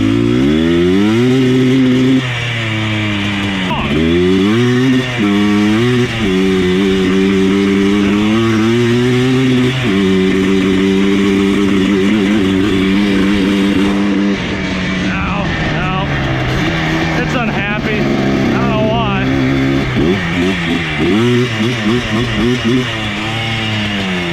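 An abandoned ATV engine runs loudly up close, revving up and down with a rough buzzing tone, sputtering and cutting out in places, as someone talks over it.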